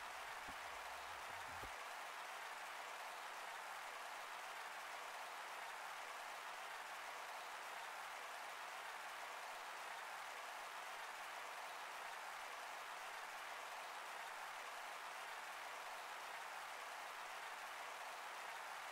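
Applause from a crowd in the video game Octopath Traveler II, an even, hissing wash of many hands clapping that holds steady and unbroken, with a short low thump at the very start.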